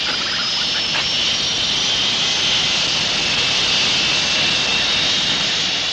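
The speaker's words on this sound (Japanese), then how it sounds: "エンジンを全開にしろ。 エンジン全開。" A spacecraft engine at full throttle in an anime, a loud, sustained jet-like roar with a high whine running over it, steady and unbroken for several seconds, with no voices.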